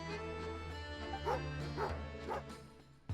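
A dog in Genshin Impact barks in short, yipping bursts, roughly three close yelps spaced under a second apart over a soft musical game backdrop, ending with a small thump.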